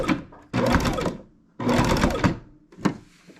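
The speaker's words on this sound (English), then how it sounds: "So now I'm going to stitch a little just to make sure that seam is secure." A Baby Lock Jazz II sewing machine stitching quilt binding runs in two short bursts of rapid, even needle clatter separated by a pause, then a single click as it stops.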